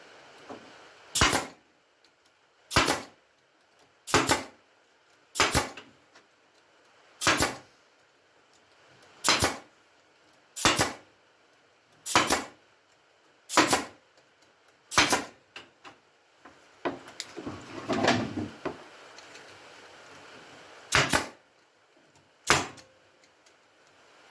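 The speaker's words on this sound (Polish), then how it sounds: "Bierzemy pistolet pneumatyczny i lecimy boczek po boczku" A pneumatic nail gun drives nails into Langstroth beehive frames, firing about a dozen sharp, evenly spaced pops close by, with a brief burst of rustling handling noise partway through.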